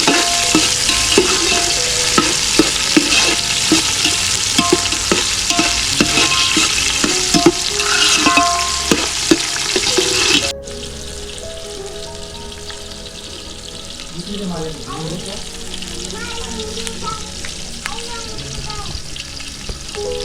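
Tomatoes frying with onion and masala in a pan for a spicy village-style chicken curry, sizzling loudly under repeated stirring and scraping, then settling to a quieter bubbling fry with continued stirs.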